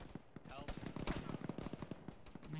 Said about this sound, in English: You can hear the gunfire.